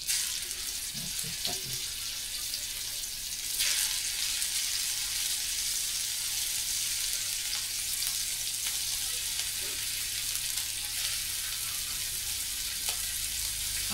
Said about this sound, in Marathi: हे खरपूस भाजायला लागतं जसं लालसर कलरपर्यंत